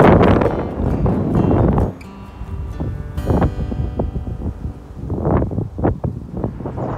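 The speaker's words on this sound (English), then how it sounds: "It is windy up here." Wind gusting across a microphone at a sunny hilltop viewpoint overlooking Caribbean waters and buildings in St. Maarten, a steady loud rumbling roar with buffeting bursts that rise and fall throughout.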